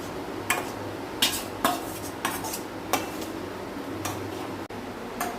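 Coconut milk is added to a potato and egg curry in a pot, with a metal spoon clinking sharply against the pot about six times at uneven intervals over a faint background hum.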